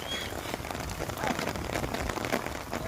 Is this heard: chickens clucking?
no